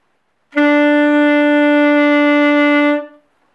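A single sustained saxophone note, steady and clear, held for about two and a half seconds before cutting off, played alone.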